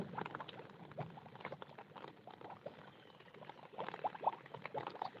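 Steady rain falls and patters during a downpour, with water pooled and collecting on the ground. The dense, continuous patter stays close and moderately loud, with brief sharper splashes near the end and no voices.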